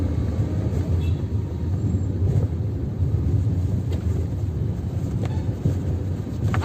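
Steady low engine and road rumble from a car moving in second gear through night city traffic, continuous and fairly loud with faint passing traffic noise and no talk.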